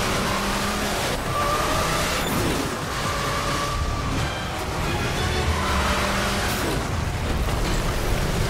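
Roaring racing vehicle engines from MotorStorm: Apocalypse, a continuous loud mix of revving motors and rumbling traffic with surging swells, chaotic and dense throughout.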